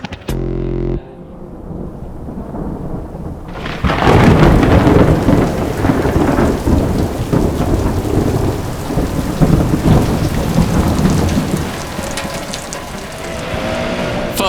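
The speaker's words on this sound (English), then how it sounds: "Mother Nature got involved. It was raining" Heavy rain pours down hard and steadily on surfaces during a thunderstorm, with a loud rumble of thunder near the start and a dense, roaring wash of rain that holds throughout.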